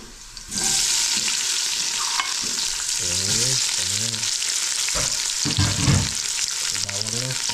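Onions sauté in a hot pan with a loud, continuous sizzle and occasional stirring scrapes, while a faint voice murmurs in the background.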